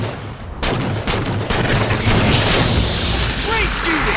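Heavy firefight in Halo 4, a dense, loud wash of rapid weapon fire and booming blasts that barely lets up, layered over game effects without a break.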